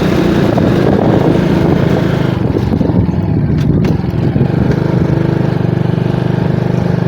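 A motorcycle crawls slowly along a rural road from Bacon, Sorsogon toward Manito, Albay, its engine a loud, close, continuous rumble with slight rises and dips.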